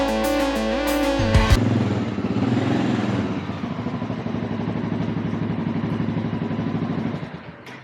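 A 33-year-old Honda motorcycle engine rumbles steadily while riding, preceded by a brief electronic musical tone at the start; loud and continuous, no speech.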